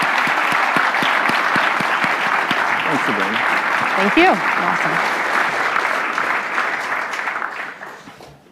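Audience applause fills a hall after a speaker's talk at a Canadian Club luncheon event, steady and dense throughout, with a few brief spoken thank-yous over it before the clapping fades near the end.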